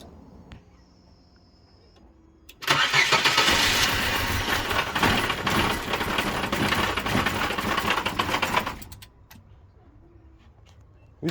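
A Daewoo Gentra car engine cranks and catches, then runs loudly and steadily for about six seconds before cutting off, with quiet mechanical noises before and after.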